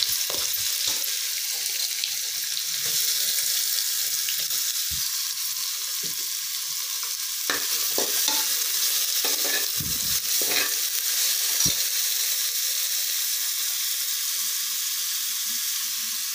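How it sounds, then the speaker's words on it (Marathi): Three large chopped onions with cumin sizzle steadily in a hot pan, a continuous bright frying hiss broken by scraping stirs and the occasional clack of a spoon against the pan, close and alone without talk. "आता आपल्याला कांद्याला पिंक कलर हलका हलका आला ना, तोपर्यंत आपल्याला कांदा भाजून घ्यायचा आहे, परतून घ्यायचा आहे"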